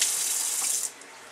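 Water pours steadily from a tap while hair is rinsed, a bright close hissing splash that cuts off abruptly near the end, leaving a faint trickle.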